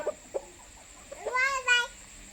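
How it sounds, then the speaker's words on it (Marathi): A cat meows twice in quick succession, close and clear, after a few soft bumps. "तिकडं मांजर दाखवा हा मांजर टाका तिथं मांजर"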